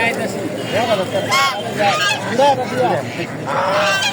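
Domestic geese honk repeatedly close by at a village poultry market, overlapping calls rising and falling amid a busy crowd murmur.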